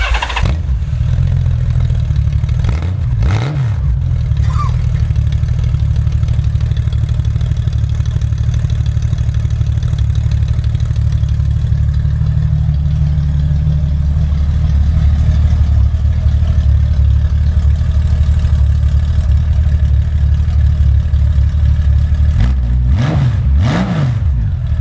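A Honda Goldwing 1500 motorcycle engine turns over and fires, then settles into a steady, loud, smooth idle close by, with brief revs near the start and again near the end; no one speaks.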